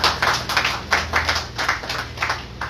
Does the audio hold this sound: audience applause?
yes